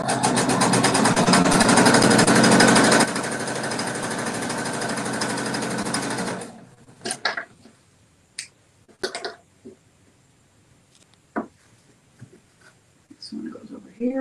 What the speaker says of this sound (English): I'm going to sew the third strip over here.